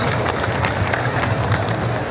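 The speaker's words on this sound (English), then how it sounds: "Let's give her a nice clap." An audience at an anime and Gunpla convention clapping for an artist, a steady, close wash of many hands with crowd noise and faint cheering mixed in.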